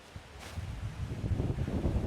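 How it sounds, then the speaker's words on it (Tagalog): Strong wind buffets the microphone in low, rumbling gusts that build and stay loud through most of the clip, with no voices. "Hala. Sobrang hangin."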